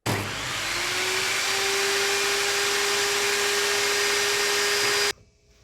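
A Ryobi PBLTS01 table saw cuts through a 2x4: the motor spins up and holds a loud, steady whine with a droning tone for about five seconds, then stops abruptly, close with no talk.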